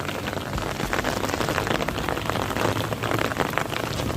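Steady rain patters densely and continuously on surfaces outdoors, a close, even hiss of many drops with no talking.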